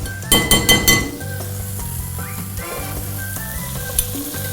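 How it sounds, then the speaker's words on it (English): Butter sizzles steadily in a frying pan for pork chops, a constant close crackle opened by a quick run of sharp metallic clinks from a utensil against the pan. "Butter in a pan."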